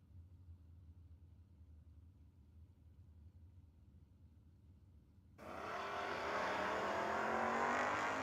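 An Oldsmobile drag racing car at a No-Box 660 shootout, heard first as a low distant idle rumble, then a sudden loud roar as it launches, with a sustained full engine blast down the strip.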